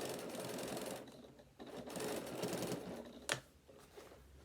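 A sewing machine stitches the side seam of a bag with a steady, soft chatter, broken by a brief pause and a sharp knock near the end.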